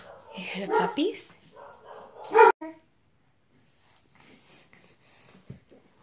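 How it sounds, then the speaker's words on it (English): Puppies let out a few short, high yips and barks at close range, with one sharp loud yelp in the middle. A person's voice is also heard nearby, and the clip ends with faint scattered sounds. "Hear the puppies?"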